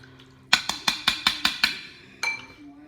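A metal tablespoon taps and scrapes against a container while scooping out a chili ingredient, six quick regular clinks followed by one more after a pause, close and crisp.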